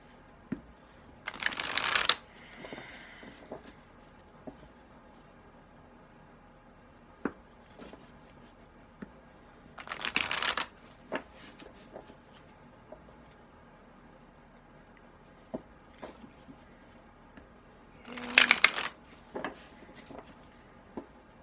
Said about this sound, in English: I'm not quite sure I want to cooperate with shuffling tonight.